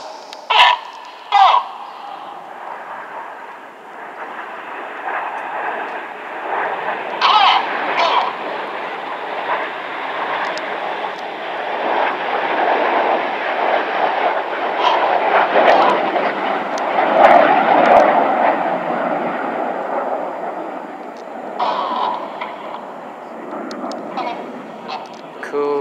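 RAF Red Arrows jets fly a rollback manoeuvre at a display over Epsom College, a long swelling roar that builds and fades across the sky, with brief voices and outdoor noise around it.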